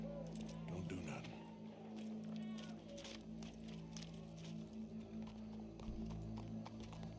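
Horse hooves clip-clop steadily in Red Dead Redemption 2, set against a constant low game drone while voices talk over the scene.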